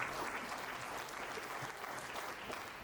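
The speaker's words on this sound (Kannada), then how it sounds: "ಅವರು ದೊಡ್ಡ ಚಪ್ಪಾಳೆ." A hall audience at a farmers' conference claps in sustained, even applause, a dense steady patter of many hands heard from a moderate distance for the whole stretch.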